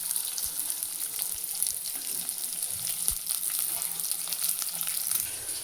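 Onions, mustard seeds and cumin fry in hot oil for an egg curry, making a steady sizzle with small pops and crackles scattered throughout, close and fairly quiet, with no voices.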